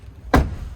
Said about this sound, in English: Close the front door.